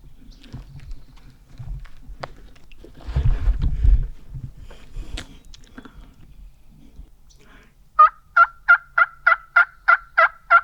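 Wild turkey, a Montana longbeard, gobbling on a public-land ridge: a loud, rapid burst of rattling gobbles near the end, after quiet rustling and handling noises in the field.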